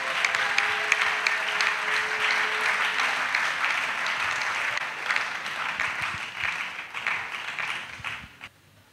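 A congregation at an annual missionary retreat in Côte d'Ivoire applauds and cheers in acclamation, a dense wash of clapping with a held tone at first, fading out at the end.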